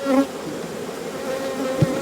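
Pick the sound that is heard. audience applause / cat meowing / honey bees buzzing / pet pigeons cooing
honey bees buzzing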